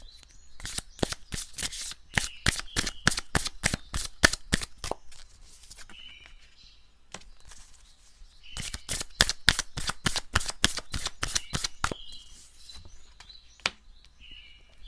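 Tarot cards being shuffled in two long bursts of rapid, crisp riffling flicks separated by a brief pause, close and alone with no talking.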